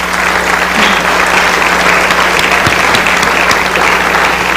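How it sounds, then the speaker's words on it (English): Steady, dense applause from an audience at a school arts and academic banquet fills the room loudly and evenly from start to finish, with no voices standing out. "Please give them a round of applause."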